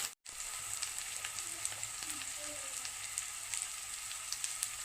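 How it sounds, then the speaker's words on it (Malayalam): Tomato, ginger and garlic sautéing in a pan for a fish-head curry, a quiet continuous sizzle with scattered soft pops and crackles, briefly cut off near the start. "നമ്മുടെ തക്കാളി ഇഞ്ചി വെളുത്തുള്ളിയൊക്കെ നന്നായിട്ടൊന്ന് വഴന്ന് വന്നിട്ടുണ്ട്"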